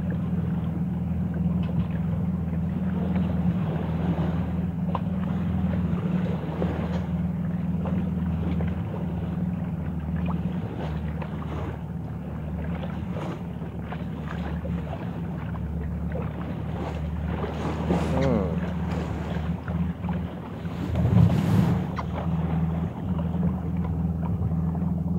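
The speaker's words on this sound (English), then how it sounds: "No, let him start the engine." A boat engine runs on a voyage at sea, a steady low droning rumble throughout with wind buffeting and faint background sounds, no clear talk.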